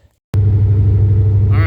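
An SN95 Ford Mustang is driven after its leaking steering rack was replaced, with power steering not fully bled. The engine starts up abruptly, then holds a steady, loud low rumble close by, with a faint whine near the end.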